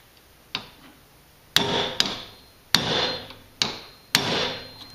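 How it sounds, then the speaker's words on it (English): A hammer strikes a punch to drive it through a Jeep 4.0 throttle body part clamped in a vise, giving six sharp metallic blows at uneven intervals, each ringing briefly, close and loud. "I'm going to take a punch and see if we can drive that through there."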